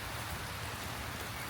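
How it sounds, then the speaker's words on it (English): Rain falling in Basel, Switzerland, a dense, even patter and hiss on hard surfaces, steady throughout with no voices. "Rainy day in Basel."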